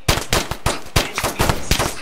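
Rapid bursts of gunfire from the video game Tha Bronx 2, about a dozen sharp loud shots in an irregular rapid rhythm, some with a faint voice underneath.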